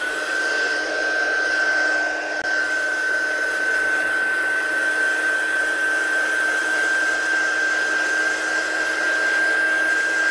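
Steady, close whirring of a hair dryer blowing over wet watercolour ink on card, a constant airflow hum with a high whine that runs unbroken for the full duration.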